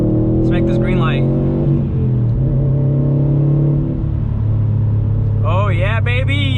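A 2020 Subaru STI accelerates hard from a green light with turbo boost, its engine note climbing loud and close, with a brief dip and a fresh rise toward the end.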